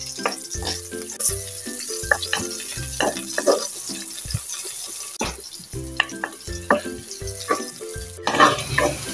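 Onion and garlic sizzle steadily in a pan for pancit miki, with a busy pattern of spatula taps and scrapes against the metal throughout and no voices.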